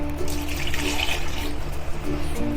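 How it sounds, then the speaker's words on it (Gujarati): Milk pours steadily from a glass onto powdered Oreo biscuits, a close, continuous liquid splash and gurgle that runs alone without pause for a couple of seconds. "હવે આપણે એમાં 1 ગ્લાસ દૂધ નાખશું"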